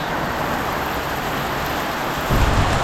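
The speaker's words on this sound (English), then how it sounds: "this sudden downpour is just going to wash straight over the land" A sudden heavy downpour pours over a flooded garden and yard, a steady loud broadband hiss of rain that swells with a deeper rumble near the end.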